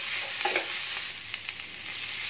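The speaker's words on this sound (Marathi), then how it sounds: "हा आपला मिरचीचा ठेचा तेलात परततोय" Green chilli thecha sautés in oil over low heat, a close, steady frying hiss with soft stirring scrapes and a few small crackles, fairly quiet and without voices.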